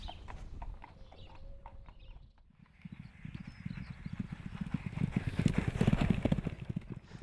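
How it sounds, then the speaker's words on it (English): Two racehorses, Cheltenham favourites, walk down a yard drive, their hooves clip-clopping in a steady overlapping rhythm that grows louder and nearer toward the end, after a quieter opening with faint birdsong. "Two Cheltenham favourites go down the drive together."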